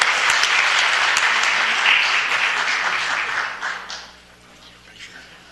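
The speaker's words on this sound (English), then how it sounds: "Let's give them another round of applause." An audience at a city council meeting claps together, a dense sustained round of applause that swells, holds for several seconds and then tapers off as the clapping thins out.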